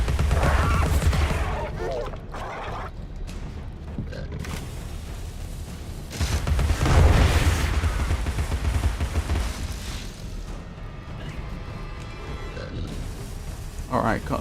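Booming explosions and cannon blasts from the video game Alice: Madness Returns roll out over a dense, noisy soundscape, loud and continuous with heavier bursts near the start and middle.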